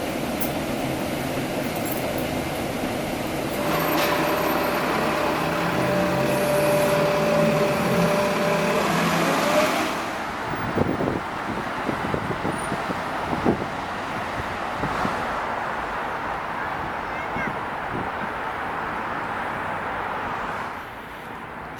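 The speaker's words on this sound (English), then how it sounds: "after a short ride on the M79 Crosstown Select bus service" A New York M79 Crosstown Select bus hums and rumbles along at a steady roar for about ten seconds, then quiets to idling with thumps and rattles of the interior, no talk.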